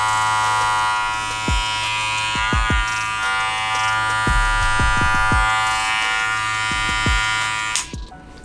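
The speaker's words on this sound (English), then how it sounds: "I'm gonna give you guys a sound test on each one to see which one is louder. Starting off with the Wahl Seniors." Wahl Senior electric barber hair clippers run with a steady, loud buzzing hum close by. A few low knocks and clicks are heard over the hum before it cuts off near the end.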